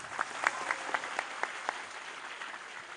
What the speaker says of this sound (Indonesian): Tepuk tangan buat Desa Silotumpeng.